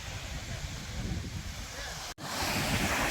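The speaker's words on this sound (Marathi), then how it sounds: "समुद्रकिनारी आहोत आम्ही" Surf and wind at the Shiroda seashore in Sindhudurg, a steady broadband wash with a brief dropout near the end before the roar returns, no voices.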